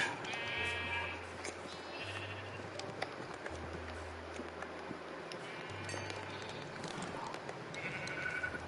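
Sheep bleat in the video game Minecraft, a few short nasal calls at intervals over a quiet background with a low hum and faint footsteps.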